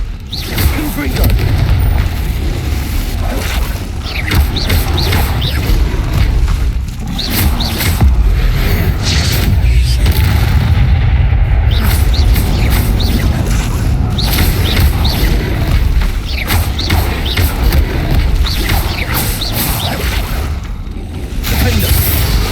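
Repeated Confringo fire-spell explosions in Hogwarts Legacy, heavy booming blasts and crashing combat noise filling the scene continuously, with a voice shouting spell names throughout.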